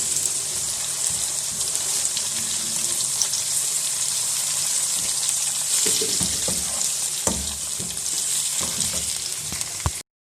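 Spinach and fenugreek leaves fry with tomato paste in a pan over medium heat, giving a continuous close sizzle with occasional stirring scrapes and clatters before it cuts off abruptly.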